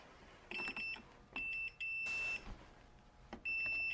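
Short electronic beeps from a multimeter during continuity checks on the fuse box and battery wiring of a Honda Civic Del Sol, several brief tones and a few longer sustained ones, quiet and close with no talking.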